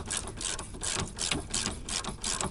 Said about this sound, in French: Là je l'attaque avec une clé,